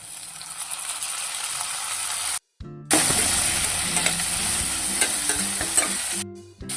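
Chopped tomatoes hit sautéed capsicum in a hot pan for paneer bhurji, giving a steady close sizzle with scraping stir strokes and two brief breaks in the sound.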